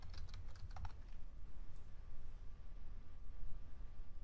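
A short burst of quick keystrokes on a computer keyboard while writing code in the first second, then only quiet background noise.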